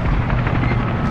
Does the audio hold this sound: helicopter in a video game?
yes